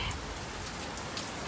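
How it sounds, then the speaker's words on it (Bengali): A heavy downpour of rain pours steadily, making an even, continuous hiss of drops on surfaces that stays at a soft, constant level with no voices. "আপনাদের বলতে না বলতে মুষলধারে বৃষ্টি নেমেছে।"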